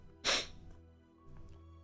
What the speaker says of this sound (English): I just sneezed like 4 times in a row